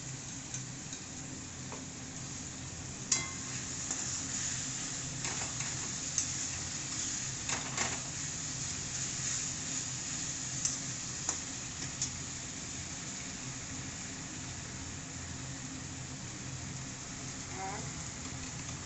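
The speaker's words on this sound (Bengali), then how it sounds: "এই মশলাগুলো সব এর মধ্যে দিয়ে আমি এবার কিছুক্ষণ একটুখানি নাড়াচাড়া করে কষবো।" Spices stir-fried in a pan for kakrol curry give a continuous dense sizzle, with sharp clinks and scrapes from the stirring spoon at intervals and faint talk in places.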